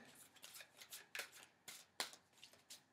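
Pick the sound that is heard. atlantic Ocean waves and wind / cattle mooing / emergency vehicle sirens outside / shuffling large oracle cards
shuffling large oracle cards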